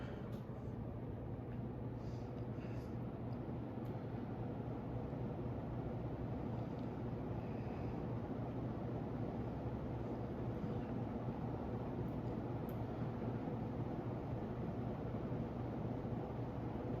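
Commander Kingston 52-inch ceiling fan with 13-degree blade pitch spinning on high at about 240 RPM, a steady soft whooshing hum with a faint low tone, constant and even throughout with no talk.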